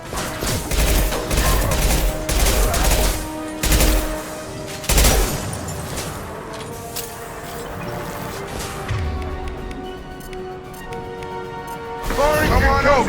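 Loud bursts of gunfire and blasts from combat in the video game Mass Effect 2, with repeated shots and heavy impacts over a booming score, and a voice talking over the fighting.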